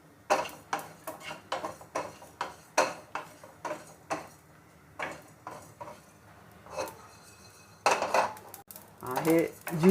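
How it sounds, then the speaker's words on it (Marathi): Cumin seeds and coriander dry-roasting in a pan for chole masala, giving a run of sharp, evenly spaced ticks and clinks close by, with scraping stirs and a louder clatter near the end. "हे जिरं तडतडायला लागले"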